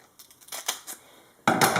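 Scissors cut through a strip of wide loop-side Velcro while making a plate carrier: several soft crunching snips, then a louder, rougher cutting burst at the end, close up with no voices.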